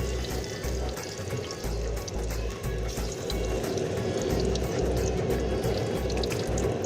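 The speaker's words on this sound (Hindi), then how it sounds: "जी हमारा ऑयल गर्म हो गया, हम अब पकोड़े डालना शुरू करें।" Pakoras go into hot oil in a kadhi pakora cook, raising a loud, dense, continuous sizzle and bubbling that fills the whole stretch close up, with no speech over it.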